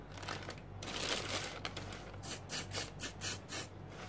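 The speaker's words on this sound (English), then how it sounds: "I can put the can spray in an angle and I can" Aerosol spray paint can held at an angle and hissing in short repeated bursts while coating a hot-glue-gun tree craft, each spray pulse close and distinct.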